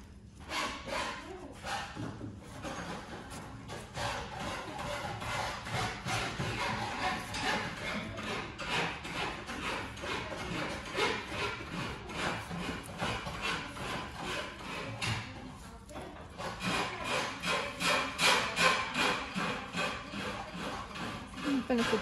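A wet rag rubs ink off a copper etching plate in steady back-and-forth scrubbing strokes, close and continuous with brief pauses between bursts of rubbing.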